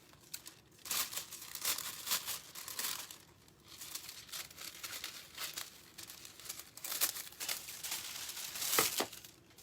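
Craft foil is cut and crinkled while being worked onto a clay pot: continuous close rustling and crackling with scattered sharper crinkles throughout, no voices.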